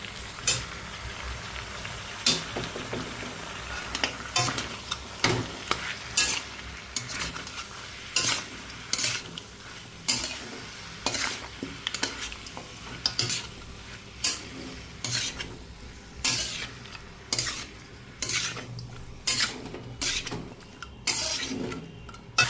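A spoon stirs boiled cabbage with katla fish head in a pan, giving repeated scraping clinks in an uneven rhythm over a soft sizzle, close and moderately loud, with no voices.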